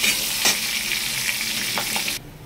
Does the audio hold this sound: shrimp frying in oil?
yes